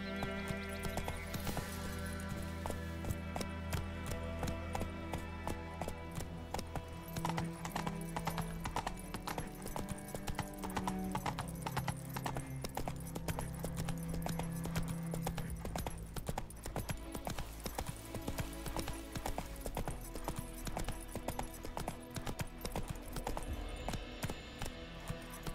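Roach, the horse in the video game The Witcher 3, gallops with continuous rhythmic hoofbeats over a dense game soundscape, with an occasional snort or whinny.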